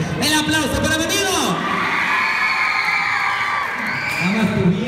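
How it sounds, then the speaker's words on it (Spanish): Crowd at a comedy show by Los Destrampados cheering and whooping loudly throughout, with an amplified voice speaking over the noise at the start and end. "El aplauso para mi amigo."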